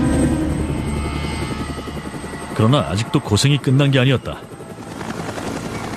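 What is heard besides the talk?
helicopter arriving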